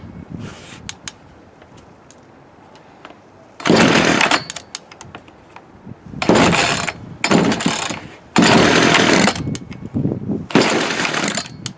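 A Poulan 36cc Wild Thing chainsaw that keeps dying as if starved of gas, running on partial choke, fires in several short loud bursts of about a second each, separated by quieter gaps of handling and rattling, with no talk.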